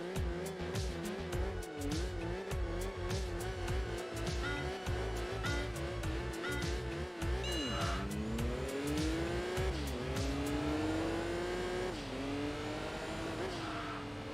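A Chevrolet Camaro races through the Dragon Trail mountain pass in Enthusia Professional Racing, its engine revving hard and climbing through repeated gear shifts with brief tire squeal. The engine drone is loud and continuous throughout.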